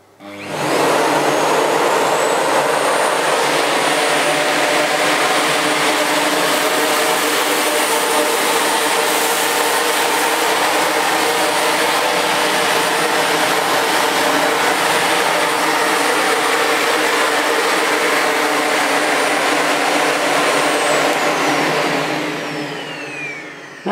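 A Sebo Felix Rosso upright vacuum cleaner runs at full power, a loud steady motor whine that starts abruptly, holds for over twenty seconds while being pushed over scattered rice, then winds down at the end.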